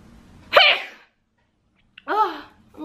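A girl's sharp sneeze bursts out, followed after a short silence by a second voiced burst that sounds like a sneeze or giggle, close and clear.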